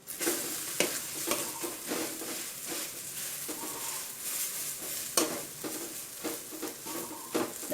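Food fries in plenty of oil in a pan, a steady sizzle broken by repeated scraping and stirring strokes at close range, with no talking.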